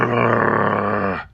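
Deep, sustained growling of beasts, a continuous rumbling snarl held for over a second at close range before cutting off abruptly.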